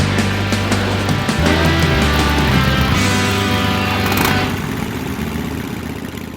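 A car engine drones steadily while driving along a road between towns, loud and continuous, with the engine tone shifting pitch a few times over constant road noise.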